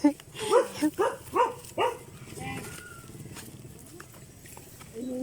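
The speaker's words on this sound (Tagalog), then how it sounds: "Yan ba nangangagat na aso?" A dog barks five times in a quick series up close, followed by quieter outdoor sounds and a voice.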